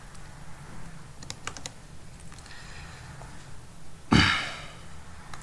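A few light taps on a computer keyboard during Arduino programming, followed by a louder breathy exhale over a steady low room hum, with no talk.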